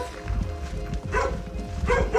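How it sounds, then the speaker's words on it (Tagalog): A dog barks a few times close by over a low rumbling background, with faint voices. "aso"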